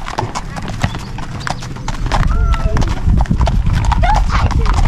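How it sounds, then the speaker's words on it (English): Horses at a campsite clop their hooves steadily nearby, with a high whinny cutting in partway through, while people talk and call out excitedly over the animals. "There's a horse there."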